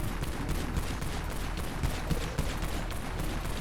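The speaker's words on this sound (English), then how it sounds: "This is a really cheap shotgun." The CC-12 shotgun fires rapidly in Dead Frontier, a dense, steady stream of blasts with no gaps, loud and close.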